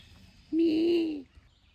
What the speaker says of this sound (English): It's a grey cat bird.